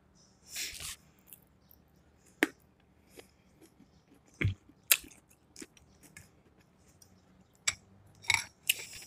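Close chewing of a seafood boil with cucumber: scattered crunchy bites and wet mastication come in short bursts separated by quiet pauses, with no talking.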